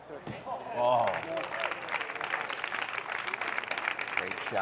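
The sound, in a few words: crowd applauding at wheelchair tennis match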